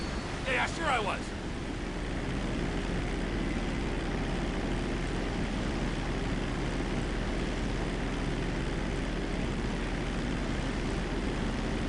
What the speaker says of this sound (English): But I love flying a plane through here.